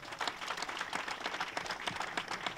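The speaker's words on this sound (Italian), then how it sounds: "fate un applauso a tutti i miei consiglieri" A crowd at a political rally applauds, a faint, dense wash of clapping heard from a distance for a couple of seconds.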